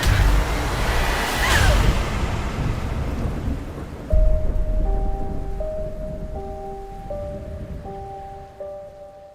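Heavy rain with rumbling thunder from a Netflix teaser trailer, a loud sustained downpour with a thunder crack early on, later joined by steady tonal music notes over the rain.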